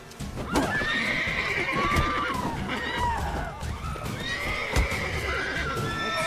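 A horse in The Witcher 3 whinnies several times while its hooves clip-clop steadily, loud and close, with a couple of sharp impact thumps over the in-game ambience.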